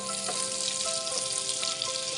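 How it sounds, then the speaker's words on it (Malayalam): Finely chopped garlic sautéing in oil over a low flame for millet pasta, a steady soft sizzle and crackle with occasional faint spoon taps, close and unbroken. "ഇതിലേക്ക് 1 ടീസ്പൂൺ വെളുത്തുള്ളി ചെറുതായിട്ട് അരിഞ്ഞത് ചേർത്ത് കൊടുക്കാം. ലോ ഫ്ലെയിമിൽ ഇട്ടിട്ട് നന്നായിട്ടൊന്ന് വഴറ്റിയെടുക്കാം"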